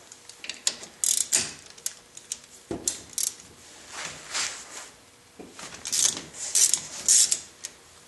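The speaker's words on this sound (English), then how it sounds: "There's two 17mm head bolts. One here, one here. Let's take and remove them." A ratchet works on 17mm brake caliper bolts, producing uneven bursts of clicking and metallic scraping with short pauses between strokes, close and fairly quiet.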